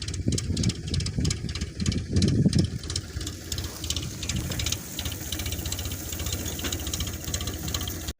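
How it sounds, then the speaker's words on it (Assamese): A tractor engine chugs and idles near a paddy field, a low knocking rumble with uneven bursts early on, settling into a steadier mid-level drone. "ট্ৰেক্টৰ আহি গৈছে।"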